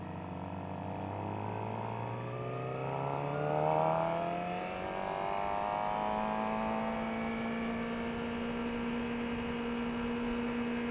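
A 2018 Suzuki GSX-R 600 motorcycle downshifts while riding: the engine whine drops, blips up briefly, then settles into a steady lower drone under wind noise.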